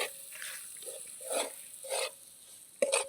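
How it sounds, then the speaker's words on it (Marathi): Spices fry in oil with onion and garlic, soft sizzling bursts and stirring scrapes in short irregular pulses, close and fairly quiet. "तर हे सगळे मसाले आता तळून घ्यायचे आहेत थोडा वेळ"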